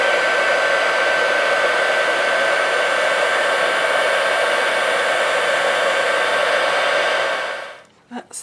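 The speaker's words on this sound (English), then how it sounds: "now I'm just going to take my heat gun and just heat from underneath" A heat gun heating embossing powder on a stamped acetate card gives a steady, loud blower roar that holds constant for about eight seconds, then cuts off and trails into a faint click or two. No voices are heard.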